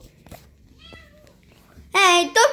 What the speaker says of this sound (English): Hey, don't you meow.